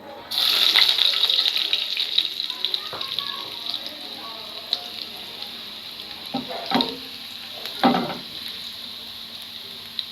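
Garlic hits hot oil with a loud, bright sizzle that settles into steady frying for dal tempering, with occasional stirring clatter close by.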